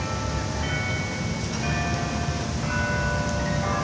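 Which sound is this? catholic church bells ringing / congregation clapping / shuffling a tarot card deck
catholic church bells ringing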